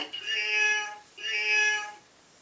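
Two drawn-out, tonal meows follow one another with a short break between them, close and fairly clear, with no talk over them.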